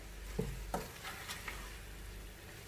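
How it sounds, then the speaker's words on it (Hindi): Boiled noodles are tossed and stirred in a pan with a spatula, giving a few soft scraping clicks over a quiet, steady sizzle with no talking. "अब हम इससे मिक्स करेंगे, ऐसे मिक्स करेंगे कि नूडल्स हमारे टूट ना जाएं।"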